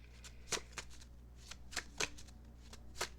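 Tarot cards being shuffled by hand, a series of crisp riffling bursts at an uneven rhythm, close and fairly quiet with no talk.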